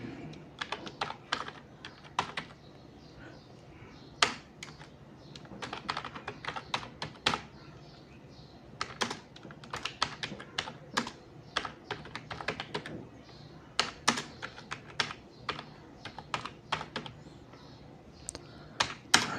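Fingers typing on a computer keyboard, close and crisp, in irregular bursts of rapid key clicks with short pauses between, over quiet background noise.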